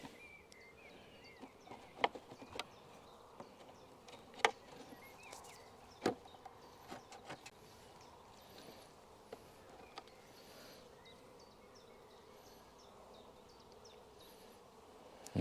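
Honey bees hum faintly and steadily during a transfer from a nucleus box to a full hive, with scattered sharp knocks and clicks from wooden frames being handled, fairly distant and quiet overall.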